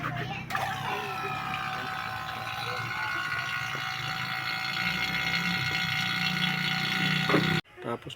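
Vacuum pump evacuating the air conditioning system of a Suzuki DA64W/DA64V van, a steady continuous whine and hum with a faint rattle, holding for several seconds before cutting off abruptly.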